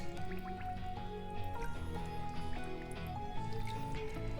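A finished knitted garment is pressed down into a basin of water, giving soft dripping, squishing and trickling liquid sounds, faint and close, with no talking.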